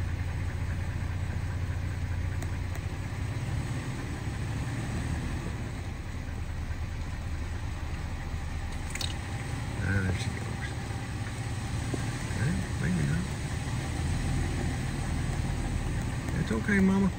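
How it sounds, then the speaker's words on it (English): A pickup truck engine idling on a ranch during a bowhunt, a low, steady rumble that stays even and moderately faint throughout with only small outdoor noises on top. "I'm right here with the truck running"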